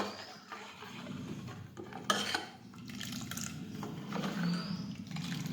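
Utensil scraping and stirring a pot of guvar chhashiyu (cluster beans in buttermilk), a steady soft churning with a sharp clink partway through, close by and without speech.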